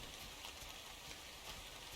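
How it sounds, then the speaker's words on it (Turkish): Steady rain in the ARK Survival Evolved game world, a soft, even hiss of falling drops that stays constant and fairly quiet throughout, with no voices. "Yağmur yağmaya başladı"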